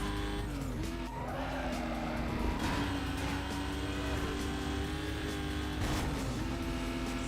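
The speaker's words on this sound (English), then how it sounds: "have to say, I don't really like this car sound. It sounds way better in carbon." An Aston Martin DB9 in the racing game Need for Speed Most Wanted holds a steady, loud engine drone, with brief tire-squeal bursts near the start and end. No one talks over it.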